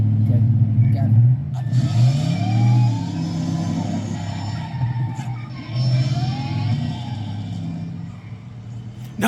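A DeLorean car engine from Back to the Future revs up and down in rising and falling whines, loud and close, with voices talking over it.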